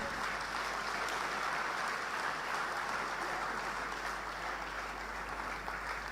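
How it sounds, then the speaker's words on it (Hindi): An audience at a sports award ceremony in Bhopal keeps up sustained, even applause, a dense wash of many hands clapping continuously at steady volume throughout. "ये तालियां लगातार बजती रहें जब तक रोहित और उनका परिवार यहां पर हैं"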